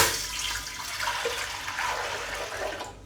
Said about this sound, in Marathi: त्यासाठी आपण या भांड्यात पाणी टाकून गरम करून घेऊ